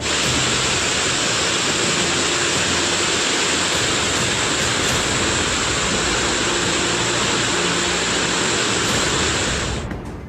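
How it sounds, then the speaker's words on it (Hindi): A loud, steady roar of rushing floodwater after a cloudburst in Sera village, Chamoli district, Uttarakhand, fills the whole stretch without pause, broadband and powerful, then cuts off abruptly at the end. "पानी के तेज बहाव की यह आवाज सुनिए।"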